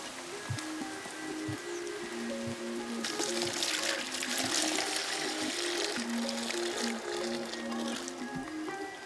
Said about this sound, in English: we put soap powder, and water in the trap.